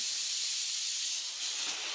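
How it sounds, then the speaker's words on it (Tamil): A pressure cooker whistle releases steam while cooking a meal: a loud, steady hiss escaping under pressure, continuous throughout with no pauses and no talking. "சாப்பாடு விசில் வந்துட்டுருக்கு"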